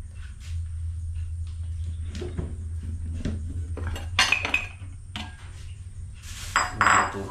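Pots and utensils clink and clatter while a viand is prepared for cooking, with scattered knocks growing into brighter bursts of metallic rattling over a steady low hum.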